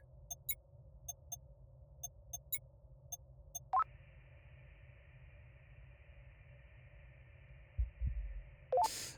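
Game heartbeat from the video game Voyager-19: a faint, evenly spaced pulsing under a steady electronic drone, with a brief sharper tone shift partway through and a low thump near the end.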